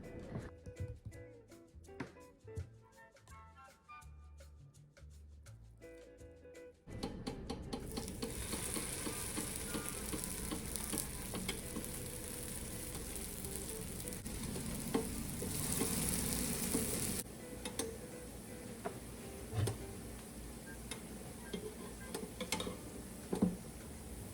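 Vegan sausage patties frying in a pan: a quiet stretch gives way to a loud, steady sizzle that crackles on continuously, swelling briefly midway, with occasional light clicks over the top.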